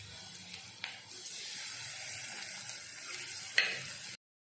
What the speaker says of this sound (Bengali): আমি কিছু গুঁড়ো মশলা, জিরে গুঁড়ো, ধনে গুঁড়ো, লঙ্কা গুঁড়ো, হলুদ গুঁড়ো আমি একটা বাটিতে গুলে রেখেছিলাম জল দিয়ে, সেটা এখন দিয়ে দিচ্ছি।